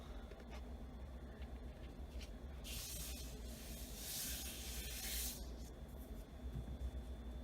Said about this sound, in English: it makes a great little ink spray